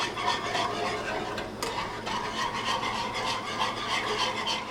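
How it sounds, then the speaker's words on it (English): Parmesan cheese is grated by hand in a kitchen, a steady rasping scrape repeating in quick even strokes, close and clear, with no talking. "second round of Parmesan cheese being grated"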